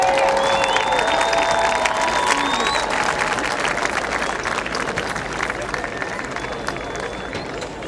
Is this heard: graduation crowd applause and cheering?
yes